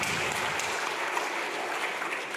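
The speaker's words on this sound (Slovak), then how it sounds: "ďakujem vám za potlesk" Audience applause fills the hall, a steady dense clatter of many hands clapping at moderate volume, alone without speech.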